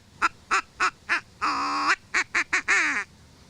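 A handheld duck call or whistle imitates duck quacks: four short evenly spaced blasts, a longer drawn-out note, then a quicker run of short quacks ending in a longer one, loud and close with no talking.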